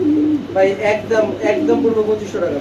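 Domestic pigeons coo in low, rolling, repeated calls close to the microphone, with a human voice mixed in.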